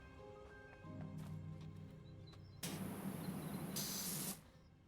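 A pressure washer in PowerWash Simulator 2 hisses in a steady spray burst lasting over a second, preceded by quieter mechanical clicks and a low hum, then cuts off.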